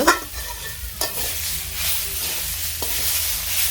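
Vegetables frying and being stirred in a pan for a village-style lentil and bottle gourd shukto meal, with scraping stirs at steady intervals over a continuous close sizzle.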